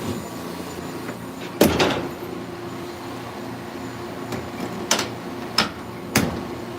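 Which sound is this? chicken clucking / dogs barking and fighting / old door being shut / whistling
old door being shut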